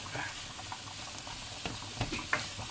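Mince stirred in a frying pan for a potato mince curry, a faint, continuous sizzle with soft scraping and a few small clicks of the utensil, fairly quiet throughout.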